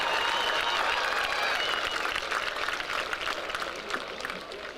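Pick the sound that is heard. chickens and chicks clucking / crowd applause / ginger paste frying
crowd applause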